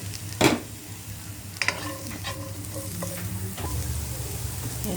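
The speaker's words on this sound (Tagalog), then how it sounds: "Wala siyang mantika, pero magigisa tayo. Unahin natin ang sibuyas." Onion sautéing in a dry pan, with soft sizzling under sharp spatula scrapes and a few clinks of utensil against the pan, all close by and without speech.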